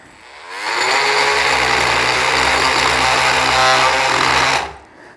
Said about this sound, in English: So now we're going to put it on the oscillating multi-tool, and here you'll be able to see this is white oak.